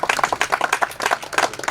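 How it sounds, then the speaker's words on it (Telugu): An audience at a school batch get-together claps together, giving dense, uneven applause that stays loud and close for the whole moment, with no voices heard over it. "సార్ కోసం గట్టిగా చప్పట్లు కొట్టండి"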